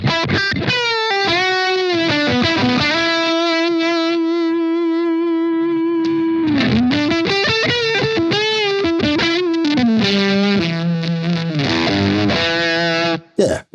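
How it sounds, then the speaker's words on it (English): Electric guitar played through a Blackstar Amped 2 pedal amp into a 4x12 cabinet with a fuzz-like crunch tone, sustained distorted notes and bends ringing loud and continuous until a sudden stop. "Yeah, it's doing a fuzz thing. It sounds like a fuzz to me."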